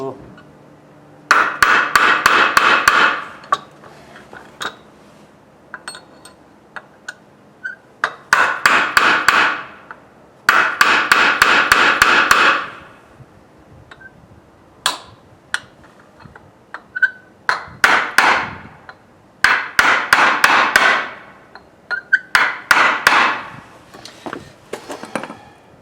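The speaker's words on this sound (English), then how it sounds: "I think I want a bigger hammer." Bursts of hard, ringing hammer blows on metal, fast rapid-fire strikes in clusters with short pauses between them, close and loud, driving in a Factor 55 flat link.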